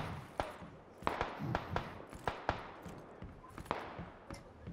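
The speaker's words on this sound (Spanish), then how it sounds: "Estoy oyendo tiros arriba en la colina" Distant gunfire on a hill in PlayerUnknown's Battlegrounds, a scatter of sharp cracks spaced irregularly, some in quick pairs, heard faintly over a low background.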